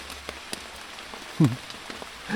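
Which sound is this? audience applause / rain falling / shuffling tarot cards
rain falling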